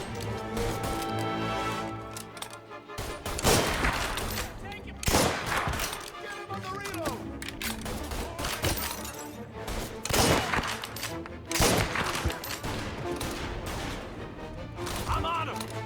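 Gunfire in the Mafia remake video game: loud, dense bursts of shots and automatic fire with crashing impacts, continuing over a busy game soundscape with voices in the mix.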